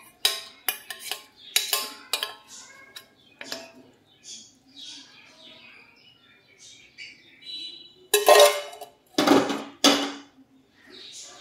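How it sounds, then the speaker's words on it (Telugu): Fried cashews and raisins with ghee tip into a sugar laddu mixture, giving close, sharp clinks and scrapes of a spoon against a metal vessel in irregular bursts, with quiet gaps between them. "ఇందులోనే ఇప్పుడు మనం ముందుగానే ఫ్రై చేసి పెట్టుకున్న జీడిపప్పులు కిస్మిస్లు కూడా నెయ్యితో సహా"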